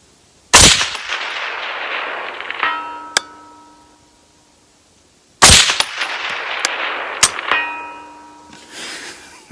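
Two loud, close gunshots from an IWI Tavor 7 .308 bullpup rifle at an outdoor range, each followed a couple of seconds later by a ringing metallic clang of a distant steel target, with a long echoing tail.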